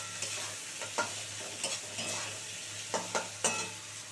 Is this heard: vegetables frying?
yes